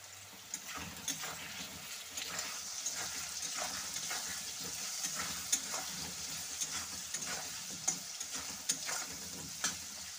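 Potato pieces fry with salt and turmeric in a pan for a vegetarian cabbage dish, giving a steady soft sizzle broken by repeated scraping and stirring clicks.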